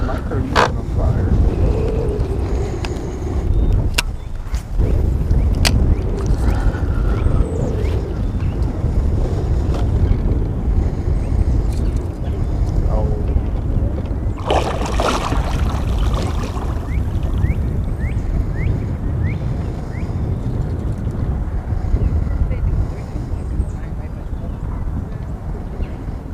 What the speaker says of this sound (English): That wind's blowing us